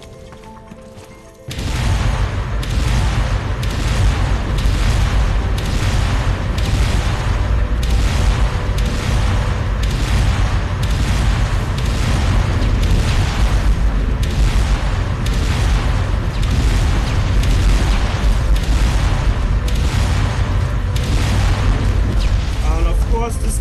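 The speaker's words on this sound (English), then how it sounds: "And I will show how it works with the rocket launcher." Rocket launcher explosions in the video game Turok 2008, a loud, dense run of booming blasts following one another in a steady rapid rhythm for about twenty seconds after a quieter start, with no talk over them.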